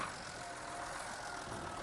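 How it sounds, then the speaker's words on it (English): A tractor engine idling in the video game Farming Simulator 19, a steady, even mechanical rumble with a broad hiss, held constant for the whole short stretch with no talk over it. "that's a nice engine sound."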